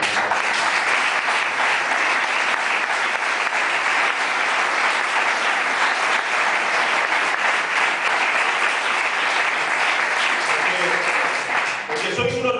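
Sustained applause from a large crowd at a Spanish Socialist Party (PSOE) event, loud and steady throughout, cutting off abruptly at the very end.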